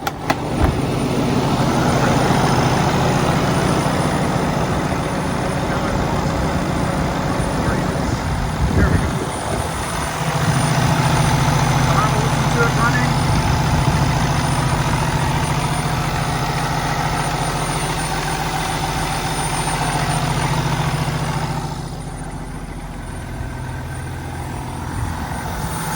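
A 2015 Peterbilt 579 day cab truck with a Cummins engine and automatic transmission idles with a steady, low, broadband rumble that holds throughout, close and loud, dipping briefly midway and easing slightly near the end.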